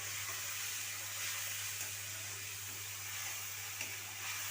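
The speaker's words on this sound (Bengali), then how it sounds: "মশলাটাকে একটু তেলে ভেজে নিচ্ছি।" Spices frying in hot oil in a pan, a steady bright sizzle with soft crackling, close and even throughout, over a low constant hum.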